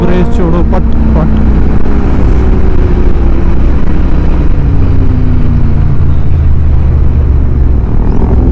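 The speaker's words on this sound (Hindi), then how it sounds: "पटाखे अलग मारते हैं जब रेस छोड़ो पट पट।" A Royal Enfield Interceptor 650 motorcycle on a sunny Sunday road ride, its engine and wind roaring loudly and steadily, with a few sharp exhaust pops near the start as the throttle is released.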